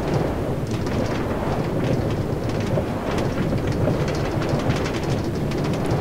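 Minecart rolling along a rail track in Minecraft, a steady rumbling clatter that stays loud and continuous for the whole stretch, with no talking over it.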